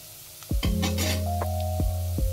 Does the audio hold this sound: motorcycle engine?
no